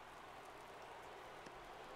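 Steady rain hisses down on a baseball stadium in MLB 22, an even, continuous wash of falling drops at low volume with no other sounds.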